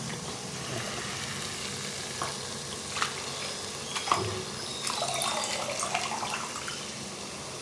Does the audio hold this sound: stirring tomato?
yes